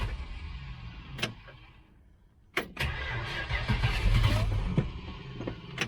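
A 1966 Dodge Charger with a Holley 4150 carburetor cranks briefly, then catches and fires up into a rough, rumbling idle close by.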